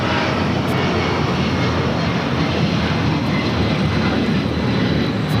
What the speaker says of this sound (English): Delta Airlines 677 taking off to Boston on 757-200